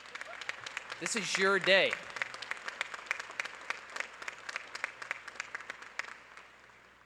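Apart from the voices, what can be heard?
auditorium audience applauding graduates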